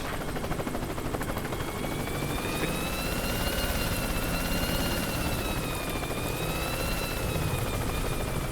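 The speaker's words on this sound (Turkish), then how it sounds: "Helikopteri de var." Steady, loud helicopter rotor drone with a high whine from the video game Worms WMD, constant and close throughout, no talking.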